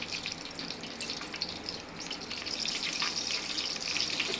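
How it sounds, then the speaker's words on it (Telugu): Cinnamon stick dropped into hot oil for an egg biryani with basmati rice, giving a steady close hiss of frying and sizzling that holds level throughout, with no talk. "ముందుగా దాల్చిన చెక్క వేసుకుంటున్నా."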